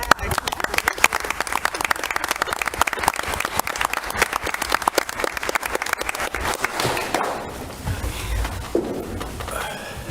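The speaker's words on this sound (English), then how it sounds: "I'd just like to give him a round of applause." People at a school committee meeting give a long round of applause, crisp, close clapping that holds steady for about seven seconds before fading, and then talking takes over.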